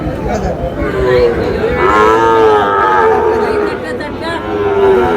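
Cattle mooing at a Comilla cattle market selling Sahiwal bulls and calves, several long, drawn-out moos rising over a noisy outdoor crowd with background chatter.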